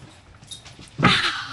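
A young puppy, one of two, gives a brief, fairly loud whimpering yip near the end, close by, after a quieter stretch of faint rustling.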